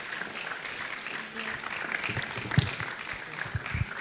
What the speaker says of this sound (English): Please, a round of applause for our keynotes.